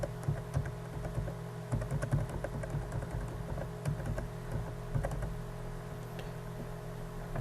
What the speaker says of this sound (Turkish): Kart bilgilerinizi yazıyorum örneğin.